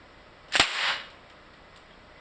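A single sharp crack from a fast draw revolver, fired once on a random start signal; close and alone, with a brief bright burst that decays quickly.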